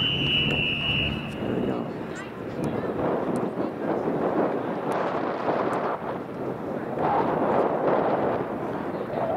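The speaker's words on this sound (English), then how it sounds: "It's really windy here." Strong wind buffets the microphone at an outdoor track meet during a men's 5000m race, a continuous loud roaring rumble throughout, with voices audible beneath the gusts.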